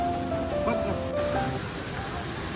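Rushing water of Rautwadi waterfall near Radhanagari Dam in Kolhapur, a steady wide roar heard from some distance, with faint voices over it.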